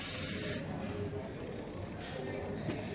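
A soda siphon sprays into a cocktail in one short, sharp hiss at the start, followed by a voice talking over quiet background noise.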